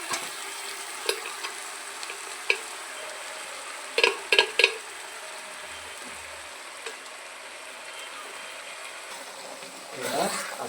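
Mutton goes into a hot pan for stir-frying, giving a steady low sizzle with a few sharp clinks and scrapes of a utensil against the pan, then a louder burst of frying near the end, with no talk.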